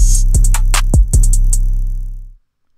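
A short electronic drum pattern with deep booming kicks and crisp hi-hats, ending with a long low decay into silence.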